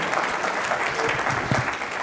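A conference audience at a client summit applauds in a dense, continuous wash of clapping, steady and fairly loud for its full length.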